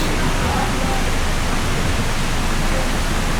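Kathu Waterfall in Phuket, Thailand, gives off a steady, broad roar of falling water that fills the scene evenly and fairly close.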